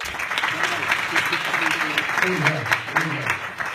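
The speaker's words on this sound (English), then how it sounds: "Give me a round of applause." Audience members at a business talk show applaud in a steady, moderate burst lasting a few seconds, with voices talking underneath the clapping.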